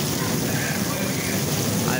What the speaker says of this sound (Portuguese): Chuva e vento de raio.